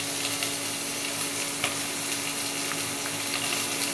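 Ginger and green chili paste hitting hot oil with cumin seeds in a pan, a steady close sizzle with faint scraping and a few sharp clicks, no voice.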